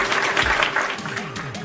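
A round of applause greets a guest on a wrestling podcast, dense clapping with some cheering that fades toward the end.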